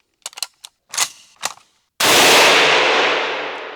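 A single loud WWII rifle gunshot at an indoor shooting gallery, a sharp blast with a long decaying tail, preceded by a few small metallic clicks and clanks of handling the rifle.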